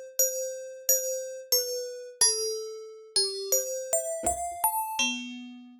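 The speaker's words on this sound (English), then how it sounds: "you hear how this is adding a little bit of noise to it?" Bell-like FM synth tones from Ableton Operator with a touch of added noise, a sequence of about ten bright plucked notes at a steady rhythm, each ringing and decaying, clear and alone.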